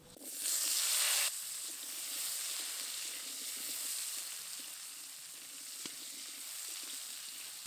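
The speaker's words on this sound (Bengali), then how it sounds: "এই তেলের মধ্যেই আলু দিয়ে ভেজে নেব।" Potatoes frying in oil left over from frying prawns, a loud burst of hissing as they hit the pan, then a steady close sizzle with faint stirring and no talking.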